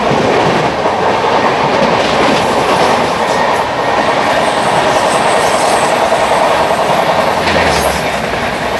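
Seemanchal Express passenger train rolling on rails just out of Delhi, a loud, steady rumble and clatter of wheels heard from inside the coach, with faint squeals over the din and no talk.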